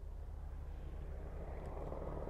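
A military helicopter drones at a distance over the coast, a low, steady rumble with a faint whir that stays even throughout.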